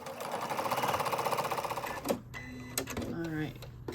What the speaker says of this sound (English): When I get to the corner, I'm just going to keep my needle down, pivot, and keep sewing.